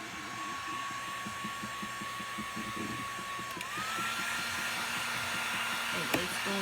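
A heat gun blows steadily on paint on a vase, a constant whirring hiss with a high whine that dips and rises midway, close and continuous with brief light knocks.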